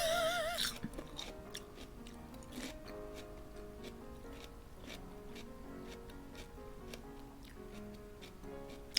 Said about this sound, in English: let me know if this celery is really fucking loud